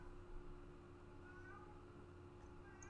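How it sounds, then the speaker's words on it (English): A pet cat meows somewhere in the room, faint and distant beneath a steady electronic hum, with a couple of brief high cries near the end. "My cat in the background is meowing a lot."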